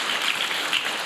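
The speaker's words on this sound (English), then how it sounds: "So let's give a round of applause to our church staff, okay?" A church audience claps for its staff in a steady, dense burst of applause that fills the room at full volume from start to finish.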